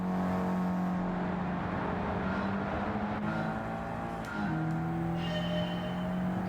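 Race cars in the Gran Turismo 7 game roar with sustained engine tones. The pitch shifts as they shift gears and accelerate, and the noise stays steady and fairly loud with no talk.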